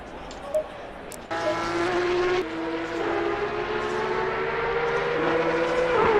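Loud, steady engine roar with rising and shifting tones from Porsche Cup race cars at full throttle in a racing video game at Oulton Park, starting quieter then jumping up and staying constant throughout.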